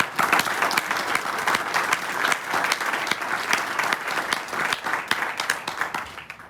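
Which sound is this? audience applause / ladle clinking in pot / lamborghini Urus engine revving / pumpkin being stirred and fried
audience applause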